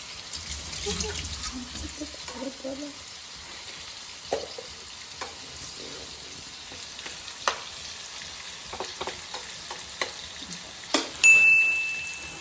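Onions sautéing in oil in a pan and being stirred, a steady soft frying hiss with scattered clicks of the spoon against the pan, close by, with some faint water noise.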